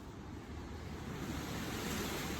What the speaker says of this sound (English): it's pretty gray and windy here in California right now